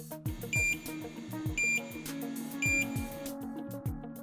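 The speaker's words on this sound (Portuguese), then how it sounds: "um bip sonoro é acionado por 3 vezes" Three evenly spaced electronic beeps from a Wolpac Wolflap II magnetic glass-panel gate ring out over a low, steady mechanical hum and some rhythmic clicking.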